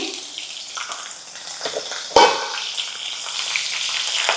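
Green chilies hit hot oil in a kadhai on a gas stove, giving a steady sizzle that jumps with a sharp crackle at the moment they drop in, then settles into continuous frying for a village-style radish bhaji.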